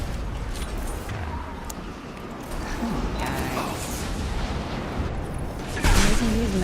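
Grenade explosions and gunfire during Mass Effect 2 combat, a dense, continuous rumbling din of shots and mechanical clatter that swells into a louder explosive burst near the end.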